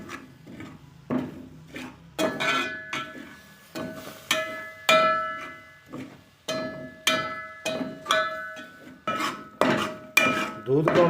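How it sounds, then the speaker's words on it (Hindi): A spoon stirs milk into a roasted chickpea peda mixture in a metal pan, scraping and clinking in steady repeated strokes about once a second, close and clear with no talk. "थोड़ा थोड़ा हम डालेंगे इसमें दूध और इसे मिक्स करते रहेंगे आहिस्ता से"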